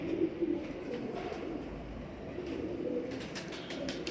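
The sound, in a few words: high flyer pigeons cooing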